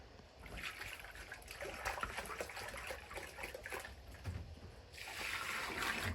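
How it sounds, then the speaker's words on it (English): Water is poured into a freshly dug hole in the ground at a village building site, a continuous splashing and gurgling pour that swells louder toward the end. "So I'll pour water in it."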